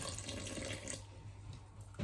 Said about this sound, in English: And then half a cup of water, and the water's going into the bowl as well